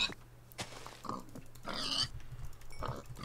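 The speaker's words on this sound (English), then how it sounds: "Pigs." Pig grunts and oinks from the Minecraft Tekkit video game, several short snorting calls spread across the moment at moderate loudness, with no talking over them.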